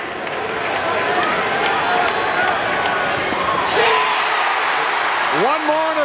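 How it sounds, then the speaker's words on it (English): A dense, steady crowd roar fills a 1986 Cardinals at Cubs baseball game at Wrigley Field, loud throughout with an announcer talking over it. "Listen to the crowd."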